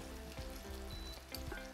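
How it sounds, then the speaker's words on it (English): Dumplings fry in a hot oiled pan, giving a steady, close, dense sizzle with crackling and spitting throughout, with no voices. "And that's just gonna sizzle and steam on the inside."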